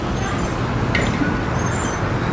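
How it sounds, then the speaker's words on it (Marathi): Busy road traffic in front of a hotel near an IT park: a loud, continuous roar of passing buses and cars close by, with a brief higher hiss midway and no talk. "तुम्ही बघू शकता की माझ्यासमोर रस्त्यावरती किती ट्रॅफिक आहे"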